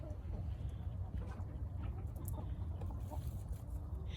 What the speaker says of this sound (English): He is my favorite rooster.